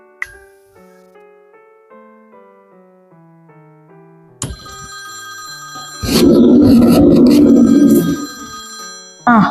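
A telephone bell rings loudly indoors in a short burst, after a soft musical score and before sharp clattering noises.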